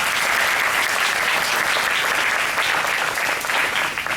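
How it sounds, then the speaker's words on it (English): A big round of audience applause at a Habitat for Humanity Women Build gathering in Dallas: loud, continuous, dense clapping that holds steady throughout without pause. "Let's give them another big round of applause."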